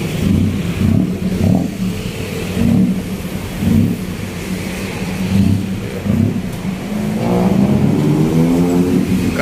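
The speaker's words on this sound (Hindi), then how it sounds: "काफ़ी ट्रैफिक जाम है ना" Cars sit in a night-time traffic jam on a Bangkok road near a riverfront market, engines rumbling and swelling in repeated revs, with one vehicle accelerating away near the end, close by.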